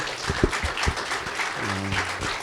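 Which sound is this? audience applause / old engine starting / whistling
audience applause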